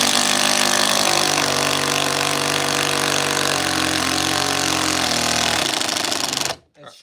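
A ten-year-old impact driver hammers a nut home with a loud, continuous rattling buzz that holds steady for several seconds, then cuts off abruptly.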